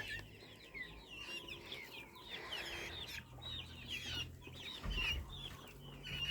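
Bantam chickens and a young rooster in a backyard flock cluck and chirp in a busy, overlapping chatter, close and fairly soft, with a brief bump of handling noise near the end.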